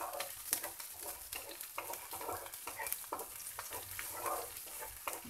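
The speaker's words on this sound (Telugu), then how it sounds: "కొద్దిగా పచ్చిమిర్చి కూడా లైట్గా యాగనివ్వాలండి" Green chillies frying lightly in oil in a pan for menthi majjiga pulusu give a continuous crackling sizzle, with frequent small pops and spatula stirs scattered throughout, close up and moderate in level.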